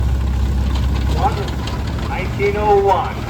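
A 1901 Russell 13-horsepower steam traction engine running at a parade of power, a low steady rumble beneath someone talking over a loudspeaker.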